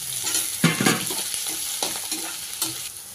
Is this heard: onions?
yes